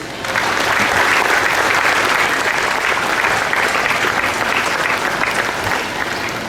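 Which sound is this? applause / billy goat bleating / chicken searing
applause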